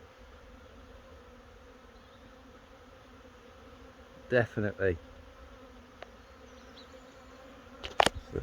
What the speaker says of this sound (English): They've swarmed into the bee shed.